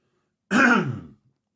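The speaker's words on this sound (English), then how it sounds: "Obligatory cough." A single short throat-clearing cough, close and fairly loud, in an otherwise silent moment.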